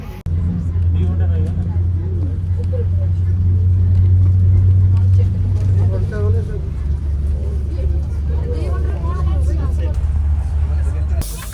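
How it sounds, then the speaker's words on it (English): Inside a school bus on the way to Mammoth Cave, the diesel engine runs with a deep steady rumble that stays close throughout, while people talk and murmur over it. "get on a school bus, or what looks like a school bus"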